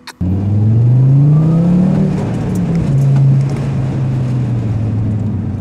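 Audi RSQ3 engine in sport mode starting with a sharp burst, then a loud sustained rev that rises in pitch and settles into a steady growl, heard close from inside the car with no talk.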